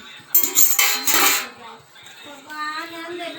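Metal spoon and dish clinking and clattering together in a burst of loud, bright strikes early on, followed by quieter handling and a voice speaking.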